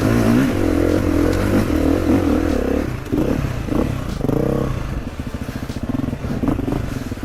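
A 2022 GASGAS dirt bike engine holds third gear through a tight bend, a loud, close, steady low growl with rough clattering texture that wavers and dips slightly as the rider leans through the turn.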